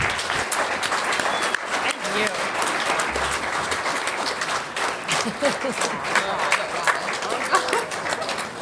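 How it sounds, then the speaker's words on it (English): A large crowd applauds steadily, dense clapping sustained throughout with scattered voices and cheers mixed in. "I'm just going to stand up and give you a big round of applause"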